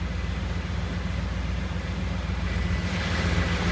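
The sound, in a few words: KITT car engine idling around 900 RPM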